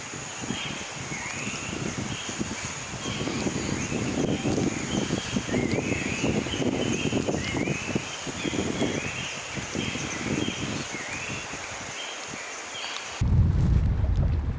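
Strong wind buffets a boat out on the lake at Situ Gunung, a steady rushing roar with low gusty rumble and faint high bird calls, swelling into a louder blast at the very end.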